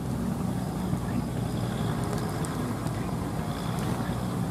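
A tall spiked-wheel tiller works a field, heard as a steady low engine drone with wind and rain-like noise over it. The sound stays constant and somewhat distant, with no speech.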